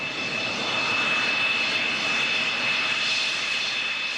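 A steady, loud whine and roar from a military jet aircraft engine while taxiing on an airfield, holding constant throughout with a high tonal hum above a broad rushing noise.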